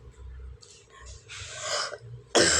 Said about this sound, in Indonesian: Maafin ya tuh batuk ini Bapak.